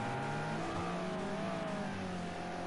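A BMW race car accelerates around the Bathurst circuit, its engine a steady distant drone with shifting pitch held at an even level throughout, no voices over it.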